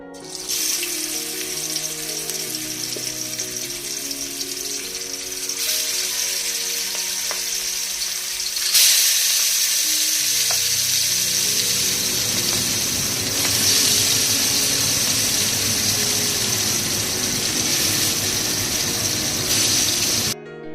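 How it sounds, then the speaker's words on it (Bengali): Frozen hilsa fish frying in a pan outdoors in sub-zero cold, a loud continuous hiss and crackle of oil that runs unbroken for about twenty seconds, with occasional surges in intensity. "আমার মাছগুলো ফ্রোজেন ছিল তাই একটু ভেজে নেব"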